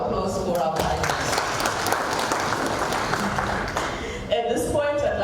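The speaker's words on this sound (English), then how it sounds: "a round of applause for our panelists" Conference audience applauding panelists after an economic policy panel discussion, a dense sustained wash of clapping filling the room, loud and even, with a voice briefly audible near the end.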